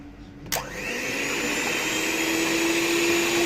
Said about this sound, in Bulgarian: И сега хващаш миксера. Пъхваш го вътре.